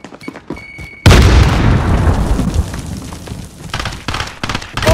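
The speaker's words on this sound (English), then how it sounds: "Grenade out." Grenade explosion in Call of Duty: Modern Warfare, a sudden loud, heavy boom after a few quiet seconds, then a long rumbling decay with more gunfire-like bursts trailing off.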